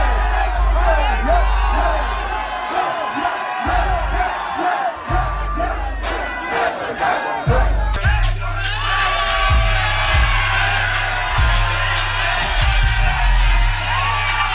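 A young audience screams and cheers wildly at a sold-out concert as the performer first appears, with loud crowd roar throughout and deep bass thumps pulsing through the second half.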